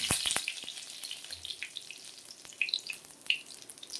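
Ginger with a five-spice tempering crackles in hot oil for a vegetarian pumpkin and potato curry, giving a soft steady sizzle with a few sharp pops near the start and later, and no talking.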